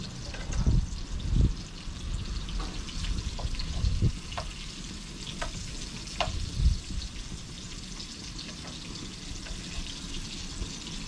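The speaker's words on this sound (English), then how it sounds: "Oh, the sausages are on." Sausages frying in a pan for a Maltese breakfast give a soft, steady sizzle with scattered pops and crackles, fairly close and quiet, alone without talk.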